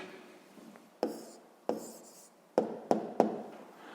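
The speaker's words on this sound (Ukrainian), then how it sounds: "записуємо відповідь" A pen scratches out a maths answer on paper, close and soft, with a few sharper taps and strokes spaced across the moment, no talk.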